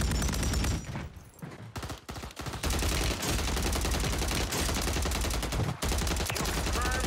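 Rapid gunfire blasts out during a fast-paced shooter game, dense bursts of shots with brief pauses between volleys, loud and close throughout.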